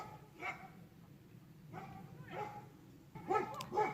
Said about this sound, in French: je pense que les chiens vont gueuler parce qu'il y a du monde qui arrive sur le chemin